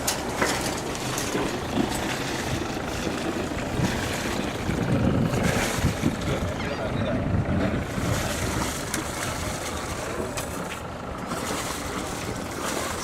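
Tour boat Fantasy heads out on a 2.5-hour dolphin watch off St. Pete Beach, Florida, its steady engine and hull wash mixing with constant wind buffeting the microphone and faint distant voices throughout.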